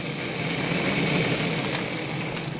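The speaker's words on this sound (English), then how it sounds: "Well, our blower's working." Steady, loud hiss of steam from the blower on a miniature SAR class 15F steam locomotive, continuous and close, with no talk over it.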